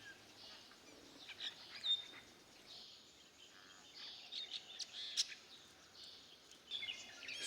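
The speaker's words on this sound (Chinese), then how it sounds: "麻雀也来探个究竟。" Sparrow chirps near a Gray-capped Woodpecker nest hole, scattered bright tweets over steady background birdsong and insect hiss, moderately near and fairly faint.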